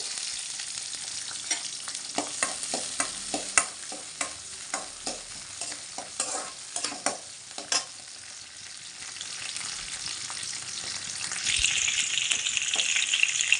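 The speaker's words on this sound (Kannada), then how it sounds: "ಈಗ ಎಣ್ಣೆ ಕಾದಿದೆ ಈರುಳ್ಳಿ ಬೆಳ್ಳುಳ್ಳಿ" Onion and garlic fry in hot oil, a dense, steady sizzle with crackles and repeated sharper stirring scrapes throughout; the hiss grows brighter and louder near the end.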